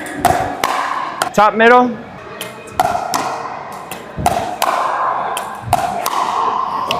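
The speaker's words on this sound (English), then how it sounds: "I'm hitting it at the right part of the paddle" A pickleball struck with a paddle gives sharp, hollow pops, several spaced hits at an uneven rally pace, while a voice speaks briefly between them.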